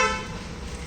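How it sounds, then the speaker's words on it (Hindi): A Kia Seltos GT Line sounds one short horn chirp as its keyless entry unlocks the car, a brief bright toot at the start that fades quickly into quiet outdoor background. "तो किया सेल्टोस GT लाइन है तो इसमें थोड़ा सा हॉर्न देता है।"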